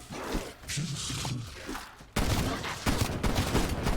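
Rapid bursts of automatic gunfire in Call of Duty: Black Ops Cold War zombies mode, loud and continuous, rising sharply halfway through into dense overlapping shots and thuds.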